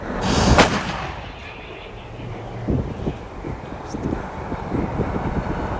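A 152 mm self-propelled howitzer fires a single heavy blast close by, followed by a long rolling rumble and wind noise as the echo fades.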